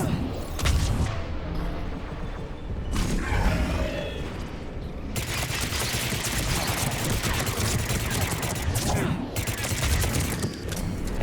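Gunfire in Mass Effect 3 rattles on as dense, sustained bursts of rapid shots with a roaring, mechanical edge, running loud and nearly continuous with short gaps, and a voice speaks briefly underneath.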